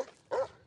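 A single loud bark from a Mastiff, a short deep woof after a quieter moment, close by with no talking.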